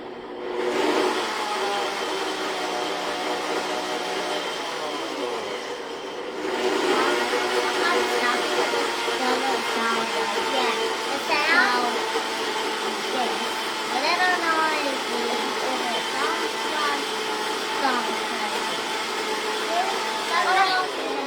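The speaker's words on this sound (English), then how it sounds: "I have a high-powered blender here." A high-powered blender whirs loudly while blending lemon pudding, a continuous roaring motor whine that briefly dips and restarts, with a person speaking over it.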